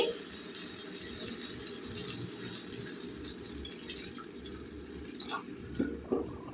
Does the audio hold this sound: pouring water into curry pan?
yes